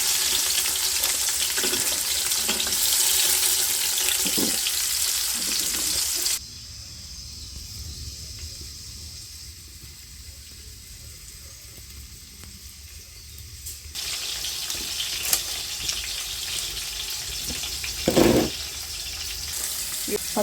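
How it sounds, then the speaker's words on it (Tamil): Chopped onions with bay leaf, cinnamon and cloves frying in hot oil for village-style chicken dum biryani. A loud steady sizzle runs for about six seconds, drops to a quieter hiss, then swells again with stirring scrapes and a brief clunk near the end. "வெங்காயம் கட் பண்ணி வச்சுருக்கிற வெங்காயத்தை சேர்த்துக்கலாம்."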